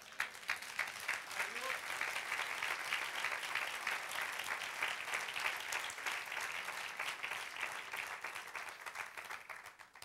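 A church congregation applauds during a sermon with a dense, steady wash of clapping that holds for about ten seconds at a moderate distance and tapers off at the very end.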